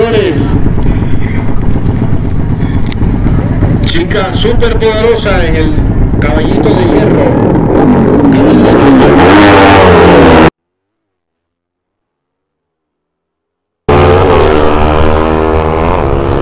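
Loud engine roar rising in pitch as a turbocharged KTM Duke 390 motorbike accelerates hard in a street race, then a sudden cut to silence before another engine revs up.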